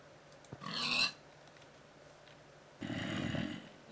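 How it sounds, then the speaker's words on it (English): Two short snorting pig grunts in Minecraft snapshot 12w38, the first brief and the second longer, close and fairly quiet over a low electronic hiss. "Got a little pig sound."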